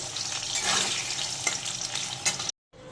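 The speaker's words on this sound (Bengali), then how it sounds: "আলুগুলো সামান্য একটু ভেজে নেব লাল করে।" Salted potato pieces fry in oil for a lentil fritter curry, a dense close hiss and crackle throughout, broken by a brief silence near the end before the sizzle returns.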